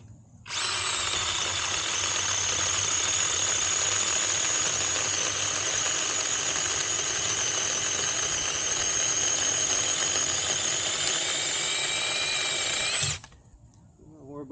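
A battery-powered SeeSii chainsaw whirs loudly at a steady high pitch as it saws through a thick tree limb, starting abruptly and running continuously for about twelve seconds before cutting off.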